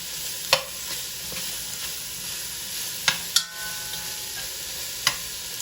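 Shallots frying and softening in a pan as the base of a venison stew, a steady broadband sizzle with a few sharp utensil clicks against the pan, close and alone.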